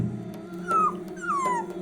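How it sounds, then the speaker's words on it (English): A dog gives two rising, drawn-out whines or whimpers over a steady low hum, each lasting a fraction of a second, close and moderately loud. "the only witness was a dog."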